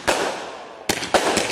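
Fireworks firing outdoors, three sharp bursts each followed by a crackling, hissing decay, fairly loud and close with no talk.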